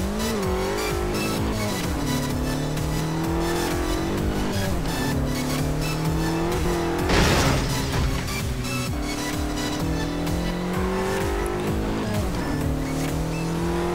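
A vehicle drives in a GTA San Andreas mission mod, its engine droning and revving in shifting pitch, with tire squeal and a brief crash-like burst midway, loud and continuous without speech.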